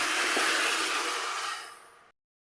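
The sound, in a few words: pouring water into the rice pot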